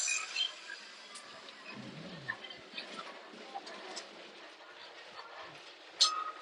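Heritage tram running on rails through Amsterdam, quiet rumbling rolling with soft clicks and light rattles, a brief low squeal partway through and a sharper knock near the end.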